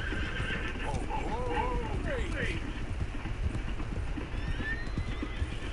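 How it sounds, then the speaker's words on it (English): A horse in the Red Dead Redemption 2 video game whinnies in rising and falling cries while its hooves clip-clop steadily close by, over a constant outdoor ambience. "Wow, that's a horse."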